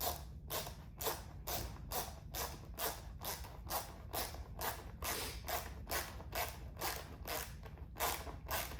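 Screws being tightened into a plastic audio panel on a 2022+ BMW K1600 motorcycle, giving a steady series of regular ratcheting clicks, roughly two per second, close and moderately loud over a low background hum.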